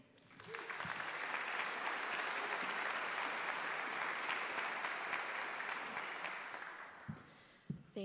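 A convocation audience applauds steadily for about seven seconds to welcome speaker Kelly Gann, a broad, even wash of many hands clapping that swells, holds and fades, with no talk.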